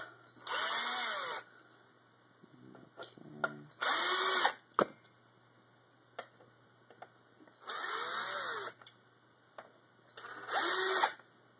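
Power drill driving Torx 10 screws while opening an Xbox 360 console, four short whirring bursts with quiet gaps, plus small clicks and handling noises between them.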